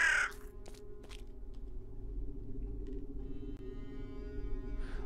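A raven caws once, short and harsh, at the very start of a scene in the 2D role-playing game Drova - Forsaken Kin, followed by a steady low ambient drone.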